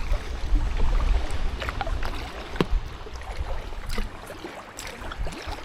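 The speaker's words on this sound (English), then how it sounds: "paddling up ahead" Kayak paddling on the narrow Sheffield & Tinsley Canal, with soft rhythmic splashes and drips of blade strokes over a rumbling wind and water wash, steady and fairly close with no talk.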